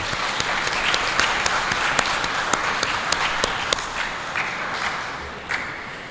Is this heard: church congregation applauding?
yes